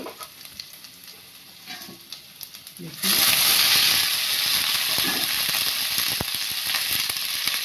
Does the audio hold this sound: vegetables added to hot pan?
yes